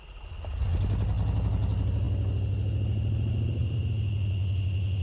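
A car engine rumbles steadily, starting up and then holding a low, even drone close by with no voices.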